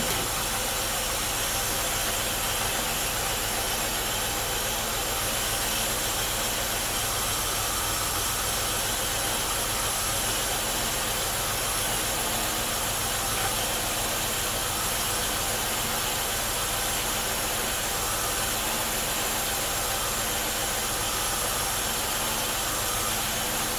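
A 2004 Oldsmobile Alero V6 idles steadily after a water pump replacement, a constant engine drone with hiss and no belt squeal, unchanging for the whole stretch.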